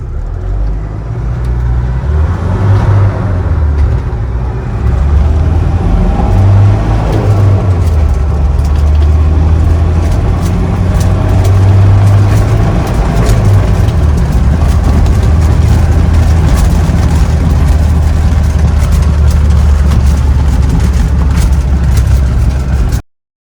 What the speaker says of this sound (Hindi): 2H में इस गाड़ी को अभी मैं चलाऊँगा। तो 2H में इस गाड़ी को चलाएँगे और देखते हैं इसकी परफॉर्मेंस।